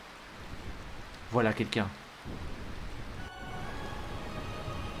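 Steady rain in the video game Final Fantasy IX, a constant hiss filling the background at moderate level, with a brief spoken line over it partway through.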